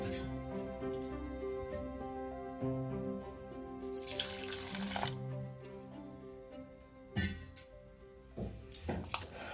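Water pours into malpua batter in short splashing bursts, one longer and one brief, over steady background music.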